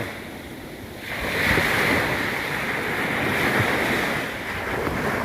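Ocean waves wash steadily onto Phayun Beach in Ban Chang, Rayong, Thailand, swelling and receding in a continuous rush, with some wind buffeting the microphone.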